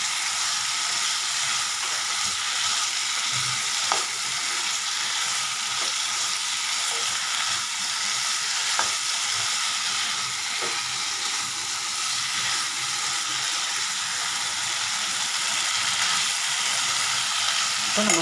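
Ivy gourd (kovakkai) curry frying in a pan on low heat makes a loud, even sizzle that runs without a break, with occasional soft clicks of stirring.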